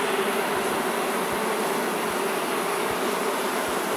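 Honeybees buzz continuously around a hive frame during queen introduction into an artificial swarm, a dense, close, steady drone with faint soft knocks beneath it.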